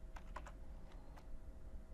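Typing on a computer keyboard while entering numbers for mouth-animation lip sync: a few quiet, close key clicks spaced irregularly over a low steady hum.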